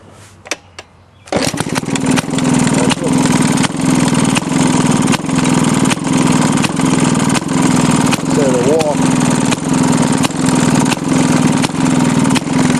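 A Maytag 92 engine with a freshly overhauled carburetor starts and then runs with a loud, close, rapid popping putter that holds steady to the end, and a voice is heard over it.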